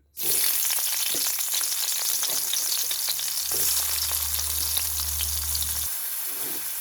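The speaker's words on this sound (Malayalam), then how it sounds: "നെയ്യ് ചൂടായിട്ടുണ്ട് ഇതിലേക്ക് ഉള്ളി ഇട്ട് കൊടുക്കാം" Onion hits hot ghee in a pan and fries with a loud, continuous sizzle, with occasional stirring clinks and a low hum underneath, close up and without talk.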